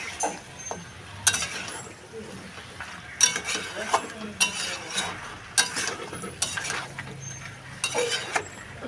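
Potatoes being stirred with ginger garlic paste in a pan, producing repeated scraping and clinking strokes of a utensil against metal over a faint sizzle, fairly close and soft.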